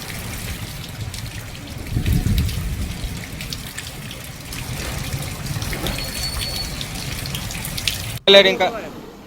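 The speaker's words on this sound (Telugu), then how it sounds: "గత 2 రోజులుగా కురుస్తున్న భారీ వర్షాలతో" Steady wash of heavy rain and running water in Karimnagar district, with a trickling, splashing texture throughout, ending in a brief louder clatter.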